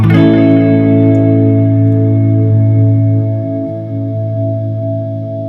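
A sustained distorted guitar chord through an Empress Echosystem delay pedal, ringing out with lush echo and reverb, holding loud and slowly decaying.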